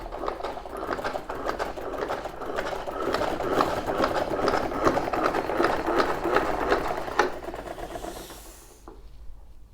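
A Vileda Turbo spin mop being wrung in its bucket gives a steady mechanical whirring and clicking spin, loud and continuous for several seconds before it slows and stops near the end.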